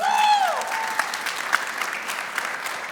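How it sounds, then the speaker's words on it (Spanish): A church audience gives applause for Harmony, a moderate, steady clapping with a few sharper claps standing out, following a brief voice at the very start. "damos un fuerte aplauso a Harmony"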